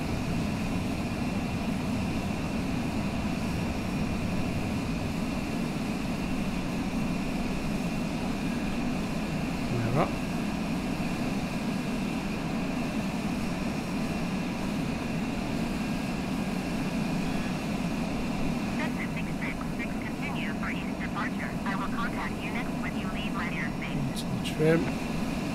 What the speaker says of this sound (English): We are rolling on the runway.